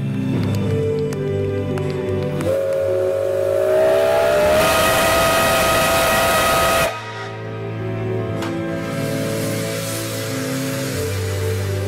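Steam locomotive L-3114 gives a long, loud whistle that swells over a hiss of escaping steam, then cuts off abruptly, leaving the low rumble of the engine.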